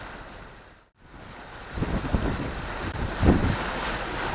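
Rutland Belle passenger boat cruising on a reservoir, with wind buffeting the microphone and water splashing and lapping against the hull, rising and falling in gusts after a brief dropout.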